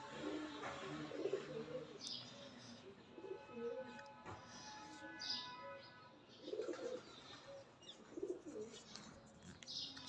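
Pigeons and other birds gather on a home terrace to be fed grain, giving soft repeated coos and scattered chirps, with a brief wing flap and faint voices in the background.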